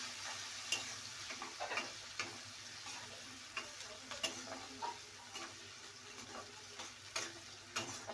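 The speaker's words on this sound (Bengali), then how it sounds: "পেঁয়াজটা একটু লাল লাল করে ভেজে নিই।" Onions browning in a pan for a taro-leaf and prawn dish, giving a steady soft sizzle with small irregular ticks and stirring scrapes, quiet and close, with no talking.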